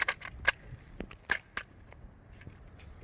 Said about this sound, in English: Let's try a Circle 21 AK-74 mag.